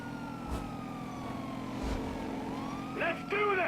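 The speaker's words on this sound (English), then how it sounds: "I don't think they can hear the sirens" Police sirens wail in the GTA V mission, a steady siren tone holding under continuous vehicle engine and traffic noise, with brief warbling siren bursts rising near the end.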